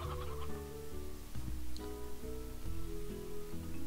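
Briar hens clucking in the Slime Rancher game on a ranch, a steady cluster of close, overlapping clucks and chicken calls over a constant background tone, with no talk.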